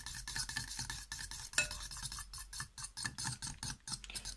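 Homemade beetle jelly mixture with powdered milk being stirred in a bowl, a close, steady run of scraping and clinking strokes repeating in quick rhythm, with no talking.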